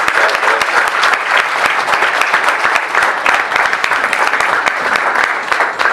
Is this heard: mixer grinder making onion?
no